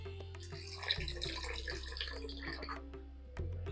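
A short, steady pour of water splashes into a pot of lentil dumpling curry, close and moderately loud, with faint liquid gurgling.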